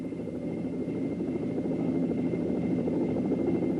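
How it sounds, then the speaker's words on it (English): A helicopter turning left under left rudder pedal input gives off a steady, loud rotor and engine drone that stays constant throughout without pauses. "As we apply light pressure on the left rudder pedal, the helo rotates left."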